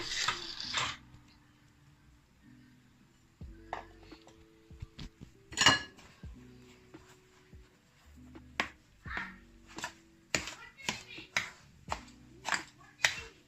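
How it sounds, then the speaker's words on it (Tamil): A spoon clinks and scrapes against a bowl while ingredients are stirred, the taps quickening into a brisk, uneven rhythm. "இப்போ எல்லாத்தையும் நாங்கள் மிக்ஸ் பண்ணி எடுக்க போகிறோம்."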